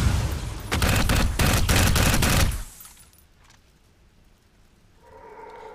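Rapid burst of gunfire from a weapon in the Xbox 360 shooter Dark Void, a loud dense volley lasting about two seconds, then cutting to near silence with a faint hum rising at the end.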